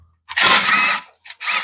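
A power tool running in two short bursts, the first longer than the second, as gearbox bolts are removed from a Mercedes E55 AMG during an engine-out job.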